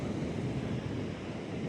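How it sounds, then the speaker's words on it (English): Ocean surf washing onto a beach under a big-moon high tide, a steady broadband roar of breaking waves with some wind noise on the microphone, continuous and fairly close. "it's definitely some surf"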